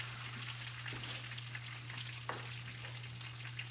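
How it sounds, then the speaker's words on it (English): Bacon frying in a pan, a steady, faint crackling sizzle with a couple of brief pops and a low hum underneath, with no talking. "The rest of this bacon going."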